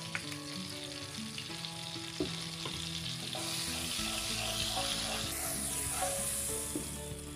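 Cooking oil and a tablespoon of margarine sizzle in a frying pan, a steady close crackle that swells partway through, with faint stirring scrapes.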